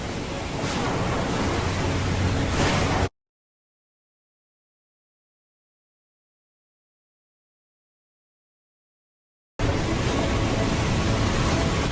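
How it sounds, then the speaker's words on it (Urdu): High ocean waves surging around a boat at sea, a dense, roaring wash of water heard in two loud, steady stretches separated by a long silent gap. "اچانک اونچی اونچی لہریں اٹھنے لگیں۔"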